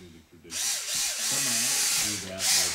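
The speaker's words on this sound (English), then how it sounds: "I'm going to go ahead and get my little drill with my 1/16 drill bit" A small power drill fitted with a 1/16 inch bit whirs steadily at close range for a couple of seconds, its motor pitch rising and dipping as it runs.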